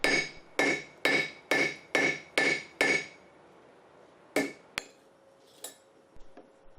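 Steel dagger blade for an Italian rapier-style dagger hammered over an anvil horn: seven loud, evenly spaced ringing metal blows, then a pause and a few scattered strikes and clinks, no talking.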